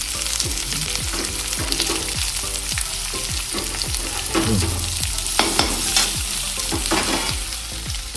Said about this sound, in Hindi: अभी एक ही साथ डाल देते गाजर और प्याज, इनके साथ भूनना है जस्ट लाइक फ्राइड राइस की तरह